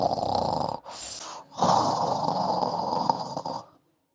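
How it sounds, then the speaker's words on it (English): A bubbly, phlegmy snore from someone asleep, three rough rattling breaths close and fairly loud, each with a wet gurgling texture, the last one longer before silence. "A bubbly, phlegmy snore"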